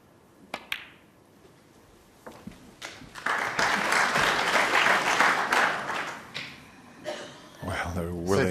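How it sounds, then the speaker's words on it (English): Snooker crowd at a World Championship semi-final applauding a shot, a swell of clapping that rises after a few scattered taps and holds for several seconds before fading, with quiet commentary around it. "He's getting applause for a straightforward shot there."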